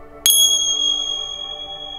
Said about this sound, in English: when you hit the two pieces together, it makes a beautiful chime sound